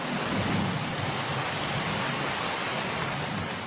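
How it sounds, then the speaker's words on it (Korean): A steady, dense rain with low thunder rumbling underneath, used as a sound effect in a Korean audio drama retelling of the Three Kingdoms. The downpour hisses evenly and loudly, and no one speaks. "그런데 그때 갑자기 비가 내리기 시작한다"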